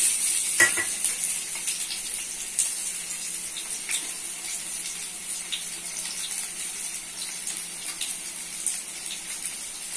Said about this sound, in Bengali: দিচ্ছি আলু লাল করার জন্য দিচ্ছি সয়াবিন অয়েল, দিচ্ছি আলু